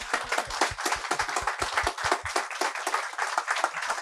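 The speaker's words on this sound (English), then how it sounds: "Can we give him another round of applause?" Lively round of applause for George Brown of Kool and the Gang, a dense crowd clapping loudly and continuously with quick, rhythmic hand claps near the front.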